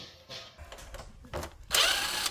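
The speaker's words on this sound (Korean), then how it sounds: "나사 풀러주면 됩니다 일단 당연히 나사 다 풀러주고요" Screws being unscrewed while taking apart a Samsung round air conditioner, heard as short rattling bursts of a power driver, ending in a louder, sustained whir up close.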